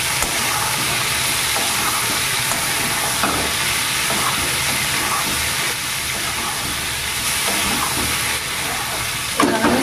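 Jackfruit seeds frying in a pan with salt and turmeric give a steady loud sizzle and hiss throughout, with occasional scrapes and clinks of stirring.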